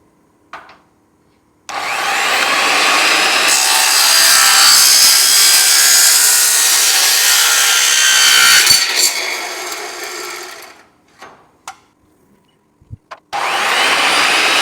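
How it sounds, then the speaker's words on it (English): A circular skill saw cuts through a damaged ladder side rail in one loud, sustained, close-up pass of whining, grinding blade noise, then falls quiet apart from a few short bursts and handling knocks. "I'm going to use a skill saw."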